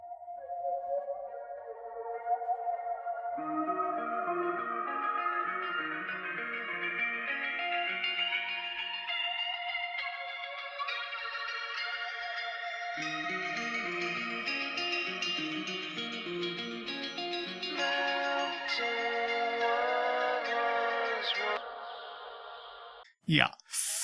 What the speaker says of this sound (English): gave the intro with the clean guitars a filtering effect.